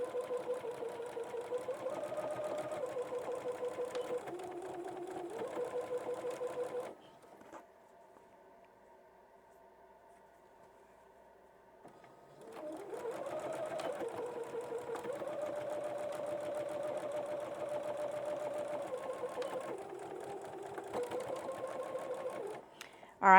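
A sewing machine chain stitching fabric strips runs in steady, close whirring bursts, pausing briefly midway before the rapid mechanical stitching resumes, with occasional talk over it.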